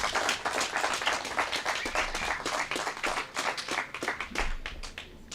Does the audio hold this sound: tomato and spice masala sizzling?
no